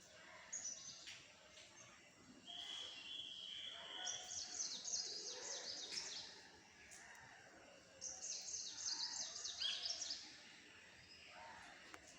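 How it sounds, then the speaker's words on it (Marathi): Faint chirps and short bright bird calls come in bursts from outside a home in the early morning, soft and distant against a quiet background. "हा बघा पक्ष्यांचा किलबिलाट ऐकू येतं"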